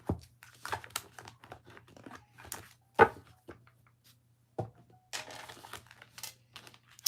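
Playing cards riffled and shuffled during a tarot-style reading, producing crisp papery crackles and flutters in several short bursts with pauses between, close and fairly quiet, no talking.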